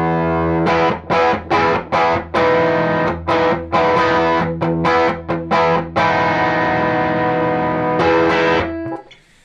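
An electric guitar played through a Pettyjohn PettyDrive pedal on its iron side, loud and distorted, with chopped rhythmic chords and sustained ringing notes ending in a fade.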